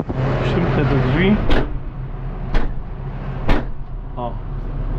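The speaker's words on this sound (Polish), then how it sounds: "Przymknę te drzwi." A door is pulled shut during work laying modular metal roof tiles, giving sharp thumps spaced about a second apart over an idling engine hum, with someone talking at the start.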